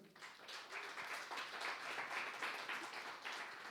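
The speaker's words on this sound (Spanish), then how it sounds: "Dar un aplauso al Señor" A church congregation claps steadily together through a worship service, a dense, even wash of applause that stays level throughout with no voices over it.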